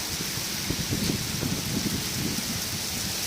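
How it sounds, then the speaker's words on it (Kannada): Rain falls steadily outdoors, a dense hissing patter with soft low drumming of drops on surfaces, continuous and fairly close throughout. "ಮಳೆ ಬಂತು. ಮಳೆ ಬಂತು."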